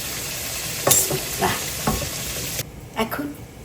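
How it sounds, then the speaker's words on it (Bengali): Chicken pieces fry in a hot pan with a steady crackling sizzle, broken by several scraping stirs of a utensil; the sizzle drops noticeably quieter near the end, and no one speaks. "ভেজে নিব মুরগির মাংসটা"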